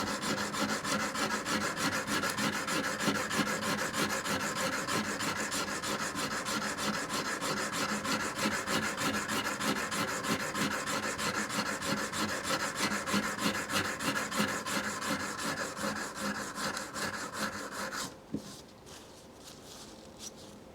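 Steel carving tool for Japanese printmaking being ground on a sharpening stone, a dense rapid back-and-forth rasping scrape repeated steadily and close for about eighteen seconds before stopping, followed by a few faint clicks.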